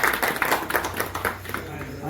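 An audience at a human rights campaign meeting in a village claps for newly selected members, a dense patter of hands at close range, with a voice speaking over it.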